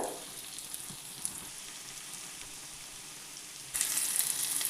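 Cashews and raisins fry in a pan with tomato and chillies, giving a steady soft sizzle that turns noticeably louder and brighter near the end.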